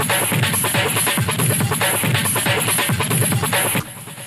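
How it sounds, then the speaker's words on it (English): A loud, dense hard techno breakbeat processed through a one-button chain in Ableton, with swirling, flanged distortion, added delay and a steady driving rhythm, cutting off abruptly near the end. "Essentially just flanges the breakbeat a bit"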